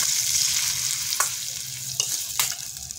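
Hot oil with chillies and black cumin poured over raw onions for an instant onion chutney, giving a steady close sizzle with a few sharp crackles and spoon clinks, no voices.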